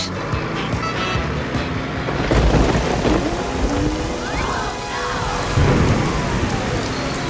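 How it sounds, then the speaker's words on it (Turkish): Steady rain pours down with distant rumbles of thunder rolling through, a dense wash of drops across the whole stretch. "Yağmur, Yağmur git başımdan."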